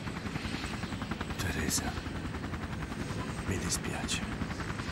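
Helicopter rotor in the video game Syphon Filter 2, a steady fluttering chop running throughout at moderate volume, with brief sharper bursts and a voice speaking over it.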